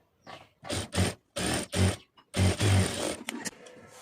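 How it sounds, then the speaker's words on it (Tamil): A sewing machine stitches a blouse in short mechanical runs, several bursts of rapid whirring separated by brief pauses, close and clear. "இப்போ நான் இதில் வந்து ஒரு தையல் போடுறேன்"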